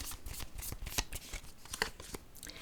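Tarot cards being handled and drawn from the deck, close soft riffling and papery flicks with a couple of sharper snaps, quiet and brief.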